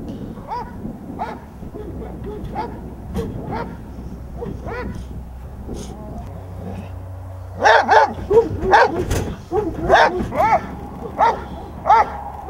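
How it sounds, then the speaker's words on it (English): A protection-trained dog barks aggressively at a decoy during car agitation training, with repeated sharp barks that turn louder and more intense toward the end over a low engine hum. "the dog must show aggression towards the decoy on the approach towards"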